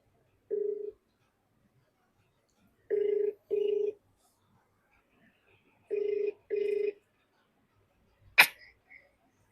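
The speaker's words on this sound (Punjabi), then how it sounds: "ਮੈਂ ਆਪ ਹੀ ਫੋਨ ਲਾ ਕੇ ਪੁੱਛ ਲੈਣੀ ਆ" A phone's ringback tone sounds in evenly spaced pairs of beeps, three rounds in all, followed by a brief click at the end.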